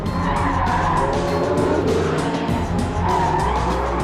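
A Porsche 918 Spyder sliding with its rear end breaking away, tyres squealing in a long loud continuous screech over the roaring engine, close up and wavering in pitch as the slide goes on.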